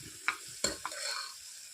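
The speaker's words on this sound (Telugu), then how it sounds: "వేసి బాగా వేగనివ్వాలి ఇలా బాగా వేపాలి" Ingredients with sambar powder frying in a pan for homemade khichdi, a few sharp stirring scrapes over a soft sizzle, close and otherwise quiet, no voices.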